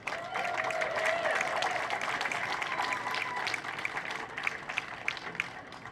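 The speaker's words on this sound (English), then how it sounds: "Applaud yourselves." Crowd applauding at a 125th anniversary celebration at San Francisco's Ferry Building, a steady wash of clapping from many hands that holds for several seconds, then thins into scattered louder claps toward the end.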